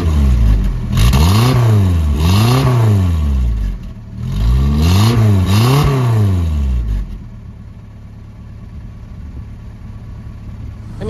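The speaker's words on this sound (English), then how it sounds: "Let's rev it up and see what happens." A small Mitsubishi four-cylinder car engine with a home-built full exhaust revs hard twice in long rising-and-falling sweeps, loud and close, then drops back to a low steady idle.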